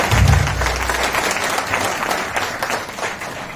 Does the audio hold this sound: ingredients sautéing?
no